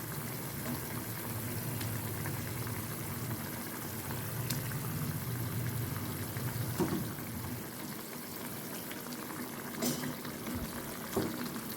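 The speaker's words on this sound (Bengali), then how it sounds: "এখন আমার এখানে দেখতে পাচ্ছি ঝোলটা ফুটে উঠেছে।" Fish curry broth bubbling in a pan, a steady close hiss and low gurgle of boiling liquid that carries on throughout with only small pops.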